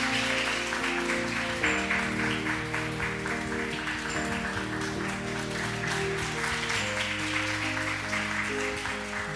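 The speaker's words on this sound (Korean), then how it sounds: "들어가실 때까지 계속 우리 박수로." A church congregation keeps clapping at an Easter Sunday worship service, sustained applause blended under loud ongoing keyboard or organ music, with no voices.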